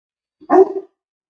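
A puppy on a ranch in northern New Mexico lets out a single short, sharp bark, close and loud, alone in otherwise quiet surroundings.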